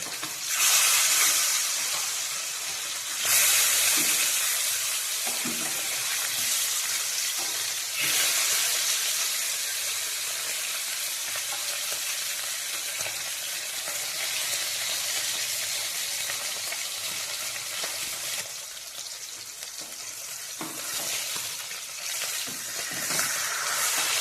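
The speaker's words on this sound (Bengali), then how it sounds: "মাছগুলোকে এপাশ ওপাশ করে ভালোভাবে ভেজে নেব" Steady, loud sizzling of rohu fish frying in hot oil, turned side to side, a continuous crackling hiss with occasional surges, no voices.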